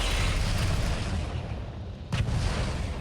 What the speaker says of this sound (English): Oh, I'm hearing more explosions.